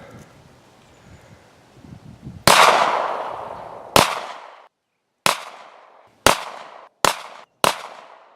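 Guns fire at cans on an outdoor shooting range, six sharp cracks with ringing decay spaced a second or so apart, the later shots coming faster, after quiet rustling.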